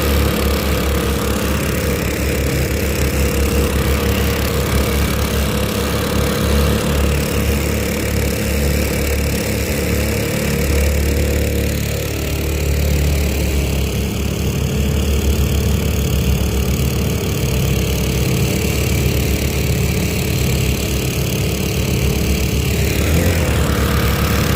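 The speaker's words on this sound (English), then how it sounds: "So I got one motor running, let's crank the other one up." Twin jet motors on a modified Pond Prowler boat run steadily on the water, a constant loud engine drone with a slight shift in pitch midway, no talking.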